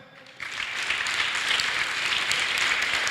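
A church congregation bursts into applause partway in, the clapping rising quickly and holding as a dense, steady wash of many hands to the end.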